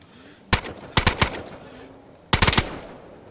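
Gunfire in the video game DayZ: a loud, rapid burst of several shots, a short pause, then a second tight cluster of shots, cracking sharply over a quiet background.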